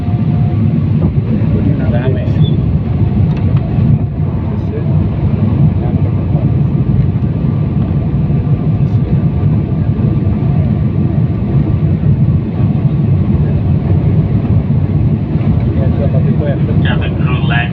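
Airplane cabin during descent and landing approach into Dhaka, with a steady loud low engine and airflow roar throughout and occasional faint cabin sounds.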